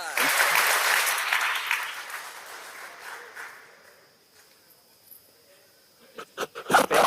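A crowd in a state capitol chamber claps in praise, a dense burst of applause that fades out, followed by scattered shuffling and a few louder knocks near the end.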